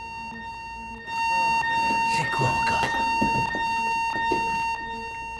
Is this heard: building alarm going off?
yes